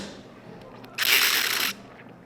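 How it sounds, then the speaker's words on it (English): Air slipping into a drinking straw during a sip, a single harsh, buzzing, hissy rasp of about three-quarters of a second, close and loud, after a moment of quiet room tone. "you ever take a sip from a straw and there's those little air bubbles that seep in and they make a little buzzing noise?"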